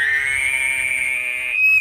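A human imitates a bull elk's aggressive lip bugle with a reed and buzzing lips, producing one sustained, loud, nasal whistling tone that holds steady and then rises slightly at the end, close to the listener.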